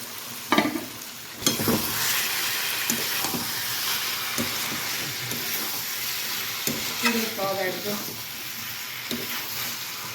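Prawns sizzle and fry in a hot pan for a Bengali prawn do-pyaza, with a steady close crackle broken by several sharp stirring scrapes and clatters throughout.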